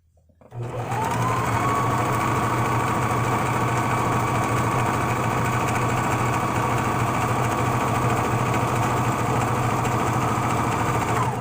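Steady, close drone of a sewing machine stitching a straight seam, running continuously at an even speed for over ten seconds after a quick start, loud and alone with no talking.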